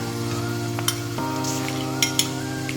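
Ghee sizzles in a hot pan while Kochi-style erachi choru is being cooked: a steady, close, moderately loud frying hiss with a few sharper pops and no talking.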